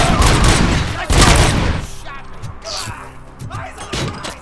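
Gunfire from Robocop Rogue City erupts in a loud, rapid barrage of overlapping blasts and thuds, then gives way to quieter clanks and scattered impacts.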